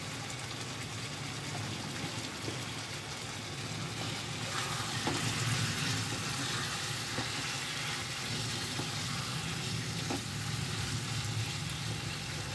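Masala of ground spices and Kashmiri red chilli powder fries in a pan for chicken bhuna, giving a steady close sizzle with occasional soft stirring clicks, continuous and unbroken by talk.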